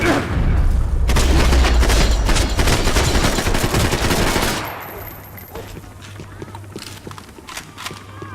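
Heavy gunfire in the shooter Max Payne 3, dense rapid bursts and booms filling the first half, then thinning to sporadic distant shots under a low hum.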